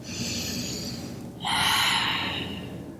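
Yoga breathing, close and audible: a long, airy inhale followed by a louder, rushing exhale through the nose and mouth.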